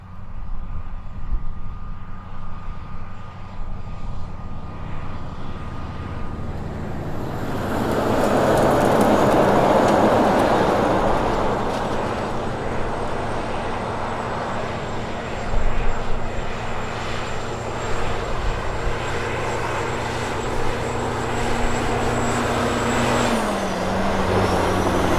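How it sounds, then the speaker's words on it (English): A 1980s Mack Value-Liner truck with its E9 V8 diesel engine labours up a hill, a loud continuous droning roar that swells in the middle and holds steady, with a faint whine over the top. "despite dropping some speed, the E9 V8 engine did its thing, and the Value-Liner made it up the hill with relative ease"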